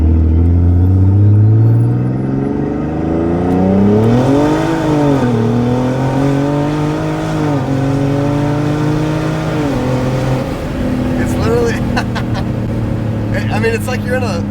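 Turbocharged BMW E36 with a swapped ZF 8HP automatic accelerating hard in a full-auto pull, engine note climbing steadily with quick seamless upshifts, loud and close from inside the car, with people talking over it.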